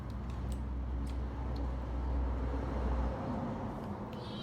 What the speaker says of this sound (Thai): เสียงรถ